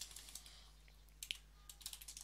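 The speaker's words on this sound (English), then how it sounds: "Yes, my typing skills are amazing." Quiet keystrokes on a computer keyboard, a quick run of light clicks with short pauses, close but faint, over a steady low hum.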